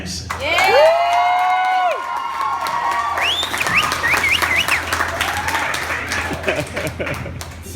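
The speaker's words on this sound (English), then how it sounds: "make some noise for Max Anderson" A comedy club audience claps and cheers loudly at a stand-up show, with whoops and shouts rising over sustained applause that stays up close and dense.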